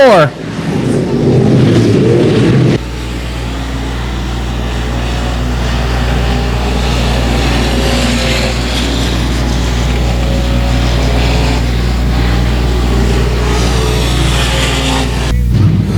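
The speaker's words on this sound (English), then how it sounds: "Stock car LCQ number 2, we're going green." Stock cars racing on a dirt track at night during a last-chance qualifier, a steady loud roar of engines after a short burst of crowd or announcer noise at the start, continuing unbroken to the end.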